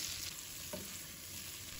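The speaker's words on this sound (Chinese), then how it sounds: "一定要把虾给多煎一会，煎至金黄酥脆" Shrimp pan-frying in hot oil in a wok for braised prawns, a faint steady sizzle with a brief stir or shake of the pan midway.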